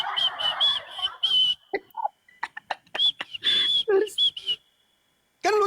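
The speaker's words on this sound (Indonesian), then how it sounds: "Tiba-tiba ada siulan dari ayunan." Short high whistled notes come in several bursts, interleaved with playful voices and squeaks, close by, ending after a pause with one more brief note.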